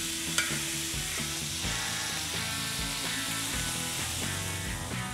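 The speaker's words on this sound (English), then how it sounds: "we'll mix up the potatoes, get grease over everything, and we'll just fry them really good" Potatoes frying in bacon grease in a pan at a campsite, a steady close sizzle with scraping stirs and occasional clicks throughout, no voices.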